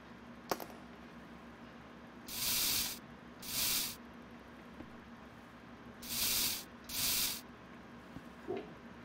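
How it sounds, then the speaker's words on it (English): A spray can in the video game Into the Radius hisses in four bursts of about a second each, two close pairs separated by quiet, near and clear with no speech over it. "I'm going to put the spray here"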